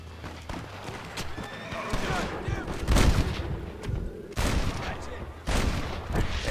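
Gunshots crack out in the Western video game Red Dead Redemption, several sharp bursts a second or so apart amid game noise and a horse whinny, with a voice talking over them.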